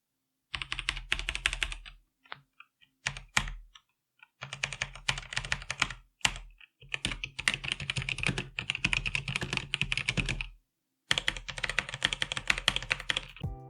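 Close, steady typing on a Logitech G513 keyboard fitted with SteelSeries PrismCaps keycaps, including keys without double O-rings; bursts of rapid clacky keystrokes broken by short pauses, with no talking.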